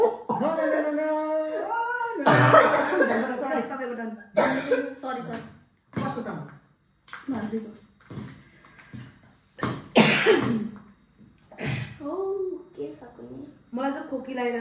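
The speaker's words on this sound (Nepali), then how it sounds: "मलाई खोकी लागिरहेछ" During a family tongue-twister game, someone breaks into a few sharp coughs amid lively chatter and laughter, the bursts loud and close between stretches of talking.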